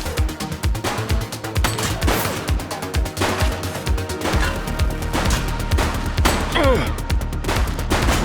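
Rapid bursts of gunfire in a video game police shootout, The Precinct, with dense overlapping shots and crashes, loud and close throughout.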